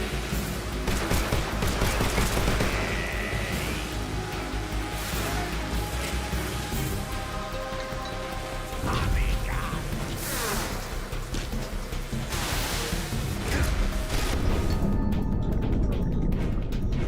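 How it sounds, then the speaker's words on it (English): Gunfire and grenade blasts from the Snake Eater video game: scattered bursts and sharp bangs with whooshing effects across a busy, continuous game soundscape, with some voice present. "he's fucking dropping grenades and shit"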